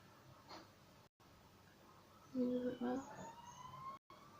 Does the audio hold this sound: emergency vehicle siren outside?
yes